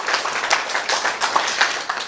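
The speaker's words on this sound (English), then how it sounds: "Give yourselves a round of applause." An audience at a town planning session breaks into applause, a loud, dense patter of many hands clapping close by, sustained with slight swells throughout.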